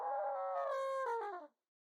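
An elephant makes a short, wavering, tonal call of about one and a half seconds that fades at the end. It is heard alone with no other sounds.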